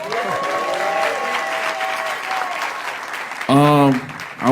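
A crowd at an awards ceremony claps and cheers, a broad wash of applause under talk, and a single voice rings out loudly near the end.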